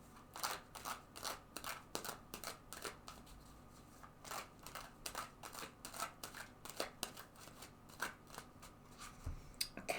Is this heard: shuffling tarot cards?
yes